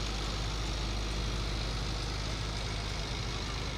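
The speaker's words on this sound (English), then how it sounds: "That's a 1951 International L120 truck" A 1951 International L120 truck passing in a parade, its engine giving a steady, dense low rumble that fills the whole moment at constant loudness, with no voices over it.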